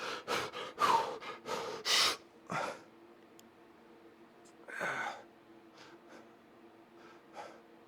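A person breathes hard through a final gym workout set, sharp loud gasps and exhales in quick bursts, then quieter ragged breaths with pauses.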